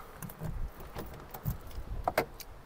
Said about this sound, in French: Plus qu'à fermer la petite voiture à clé.